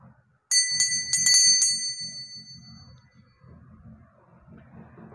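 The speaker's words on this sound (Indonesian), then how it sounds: "ditandai dengan lonceng berbunyi" A small bell struck several times in quick succession, bright ringing dings that decay slowly, followed by quiet background rustling and faint low murmuring.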